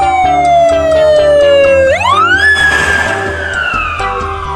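A loud electronic toy siren wails steadily, then sweeps upward and holds a higher wavering tone, with buzzy harmonics throughout and no talking.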